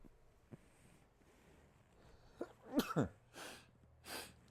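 A single sneeze breaks out of near silence, a sharp burst after a quick inhale, followed by a couple of breathy exhales.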